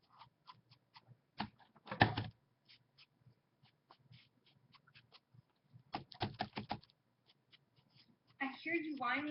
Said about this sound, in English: I hear you whining, Oliver